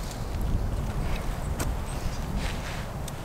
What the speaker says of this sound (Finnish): Täällä tuulee nyt ihan tosissaan.